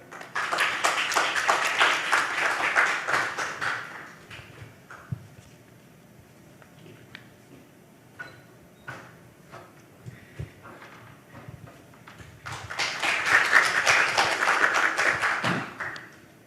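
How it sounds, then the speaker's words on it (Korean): Audience applause at a conference forum rises for a few seconds, fades to scattered quiet sounds and footsteps, then a second round of clapping swells and dies out. "박수로 맞이해 주시기 바랍니다"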